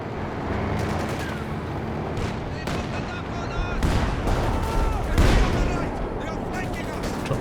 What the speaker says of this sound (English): Drops some artillery with a bit of a drive-by there.